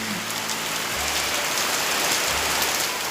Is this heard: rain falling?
yes